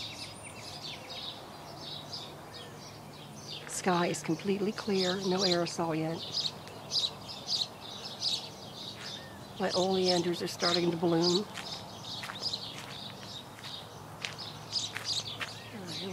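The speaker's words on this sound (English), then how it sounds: "Hear those birds." Birds chirp and sing through a clear, chilly Arizona desert morning with oleanders and ocotillo in bloom, a steady scatter of high calls throughout while someone speaks in short stretches over them.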